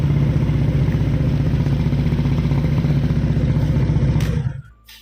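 A Honda Vario LED Old motorcycle runs after a keyless start, its engine idling with a loud, steady, close-up mechanical chug. It cuts off abruptly near the end and leaves near silence, with no talking.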